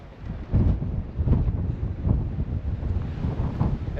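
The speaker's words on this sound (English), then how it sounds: "it's breezy, a little wet, and chilly" Gusty coastal wind near the Giant's Causeway in Ireland buffets the microphone in uneven rumbling surges, loud and close, on a breezy, wet, chilly day, with no voices.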